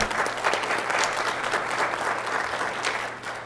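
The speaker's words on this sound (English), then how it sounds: "Can we give a round of applause to our Boy Scouts?" Steady applause from an audience at a city mayor and council meeting greets a Boy Scout troop, a dense, even patter of many hands clapping throughout with no talking over it.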